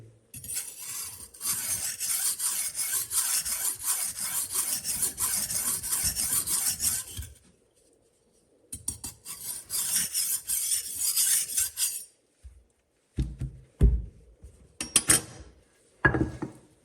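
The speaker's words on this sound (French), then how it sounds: "Il faut la faire glisser dans la longueur et dans la hauteur pour que l'intégralité de la lame soit affûtée." A kitchen knife blade is drawn along a sharpening stone in long, rhythmic rasping strokes, close and loud, with a pause and then a few shorter scrapes and clinks as it is repositioned.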